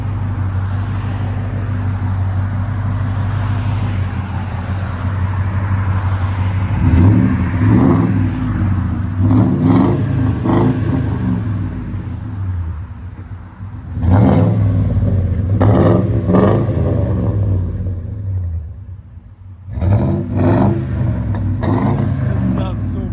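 A 2000-2005 Ford Excursion with a 5.4L V8 and Flowmaster 50 Series exhaust idles with a deep, steady rumble, then revs in several sharp bursts, loud and close, with voices talking over parts of it.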